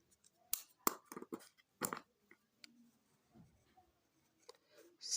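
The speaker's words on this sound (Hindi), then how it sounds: "सेट की डेफिनेशन सबसे पहले हम लिखेंगे।" Handwriting with pen or chalk as a set definition is written out in a basic maths lesson, a few brisk scratchy strokes in short bursts, fairly close, with quiet gaps between them.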